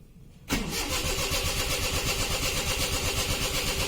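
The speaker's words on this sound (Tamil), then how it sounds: "இப்போ வண்டி ஸ்டார்ட் பண்ணும்போது பார்த்தீங்கன்னா சவுண்டு கேட்கும் உங்களுக்கு" Maruti 800 carburettor car engine cranking and catching after a brief quiet moment, then settling into a steady, close, rhythmic idle.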